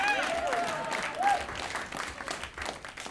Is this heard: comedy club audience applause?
yes